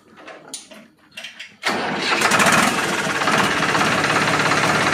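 A Farmtrac 60 tractor diesel engine fitted with a turbo cranks and catches after a few short clicks, then runs loud and close with a rough knocking rumble and an airy turbo hiss.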